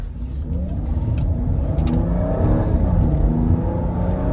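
A Mercedes-Benz W124 engine revs up steadily from a first gear standstill start, rising in pitch as it accelerates, loud and close with road noise underneath.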